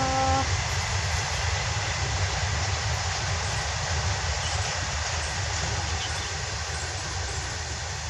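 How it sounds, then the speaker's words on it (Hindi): A train rushes past nearby, a loud, dense, continuous rumble and roar that holds steady throughout with no voices audible. "रेलगाड़ी आ रही थी ना, उसी की आवाज़"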